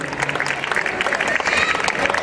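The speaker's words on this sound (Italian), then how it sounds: "Signore, applauso, applauso" An audience applauds at an outdoor summer concert in Bovolone, dense clapping mixed with crowd voices and chatter, fairly loud and close.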